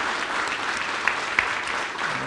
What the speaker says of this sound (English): everyone on your feet, give me a great round of applause for my friend and my partner, Daniil Kleyman